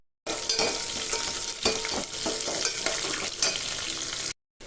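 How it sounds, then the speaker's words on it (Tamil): Onions sizzle in a hot pan while a spatula stirs and scrapes them in short strokes, close up, with no talking. "ஒரு பெரிய வெங்காயத்தை நறுக்கி சேர்த்துக்கிட்டு பொன்னிறம் வர அளவுக்கு வதக்கி எடுத்துக்குவோம்"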